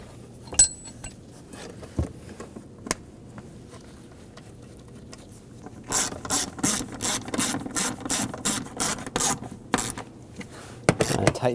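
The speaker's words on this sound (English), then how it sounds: "Tighten down the nuts." Ratchet tightening the nuts on the right fuel pump module cover of a 2007-2013 BMW 328i 3.0L inline-six, heard as a close, rapid run of sharp clicking strokes after several seconds of quiet handling noises.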